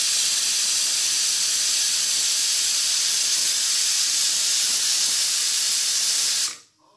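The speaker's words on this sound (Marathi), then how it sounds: "आता आपण कुकर लावून घेऊया आणि 10 मिनिटं हाय फ्लेमवर कुकर ठेवायचा आहे." A pressure cooker on high flame hissing steam loudly and steadily while moong dal masala rice cooks, a continuous close jet of hiss that cuts off abruptly at the end.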